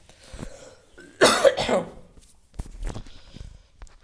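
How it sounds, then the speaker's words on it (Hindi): A teacher coughs loudly in a short burst of rough hacks in a classroom, followed by a couple of fainter coughs and shuffling, with some speech around. "सॉरी बच्चों, थोड़ा खांसी आ रही है ना।"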